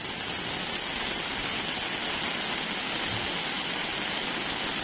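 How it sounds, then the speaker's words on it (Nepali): A small village stream rushes steadily, a dense even wash of flowing water, close and unbroken for the whole stretch with no voices. "खोला त लो सानो भएछ यार"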